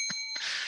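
A short bell-like sound effect rings out alone in two quick taps, with a steady bright tone and a sustained shimmering ring trailing after.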